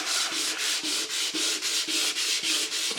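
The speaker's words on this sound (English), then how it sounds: "I'm actually going to sand it out." Stained oak floor sanded by hand in even, regular strokes about twice a second, a close, moderately quiet, rough swishing with no voices.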